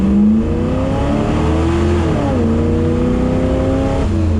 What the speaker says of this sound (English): Full throttle upshift, first to second.